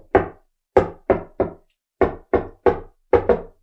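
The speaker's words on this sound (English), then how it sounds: "that's the secret knock for the Christmas Adventurers Club" Nine sharp knocks on a door in a deliberate rhythmic pattern, grouped with pauses, clear and close with no talking.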